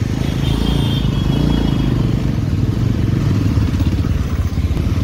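Motorcycles arriving and parking at a crowded tribal unity rally in Ranchi, Jharkhand: a steady, close engine rumble with clattering and idling throughout, no talk.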